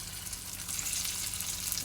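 Taro slices frying in oil in a frying pan, a steady soft hiss and crackle of sizzling close by, continuous and unbroken without talk.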